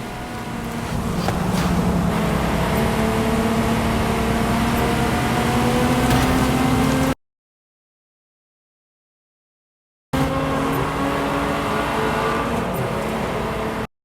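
A Ferrari road car driven in a racing video game, its engine a steady, loud drone with shifting pitch that holds for several seconds, cuts out completely, then returns just as loud.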